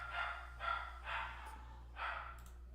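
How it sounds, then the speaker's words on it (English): Dogs bark in the background, four spaced, muffled barks at moderate distance over a steady low electrical hum, with no one talking. "excuse the dogs in the background"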